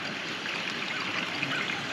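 A campground water fill station tap runs at strong pressure, a steady, close rush of flowing water with no break and no talking.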